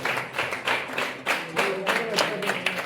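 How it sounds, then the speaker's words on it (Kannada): Audience clapping at a felicitation and ID card distribution ceremony for journalists, a moderate indoor crowd applauding in uneven bursts with a few voices mixed in. "ಎಲ್ಲರೂ ಚಪ್ಪಾಳೆಯೊಂದಿಗೆ ಅವರಿಗೆ ಅಭಿನಂದನೆಗಳನ್ನು ಸಲ್ಲಿಸಬೇಕಾಗಿ ವಿನಂತಿ"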